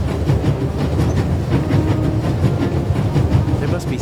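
A moving train in the game The Raven Remastered rumbles steadily with rhythmic clickety-clack of wheels on rails, loud and continuous, with faint voices mixed in.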